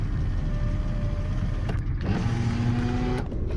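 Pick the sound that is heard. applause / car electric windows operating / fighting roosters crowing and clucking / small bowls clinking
car electric windows operating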